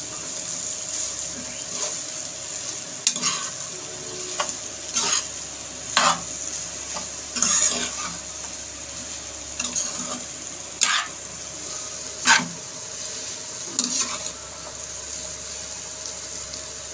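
Fried beef pieces are stirred into noodles in a hot pan, giving repeated scraping, tossing strokes over a constant sizzle and hiss.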